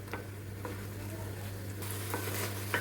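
Meat and onion frying in a pan, a gentle continuous sizzle over a low background hum, punctuated by a few light clicks and taps of stirring, growing slightly brighter toward the end.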